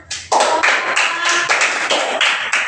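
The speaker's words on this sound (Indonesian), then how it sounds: "beri tepuk tangan teman-teman untuk" Classroom applause from a group of students, a brisk burst of many hands clapping close by in a slightly uneven rhythm for a few seconds, with no talking over it.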